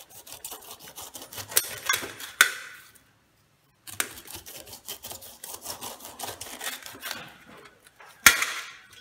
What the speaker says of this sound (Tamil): இப்படி மேலேயும் கீழேயும் கட் பண்ணி வச்சுட்டு வச்சு வெட்டினோம்னா அதை ஈஸியாக வெட்டலாம்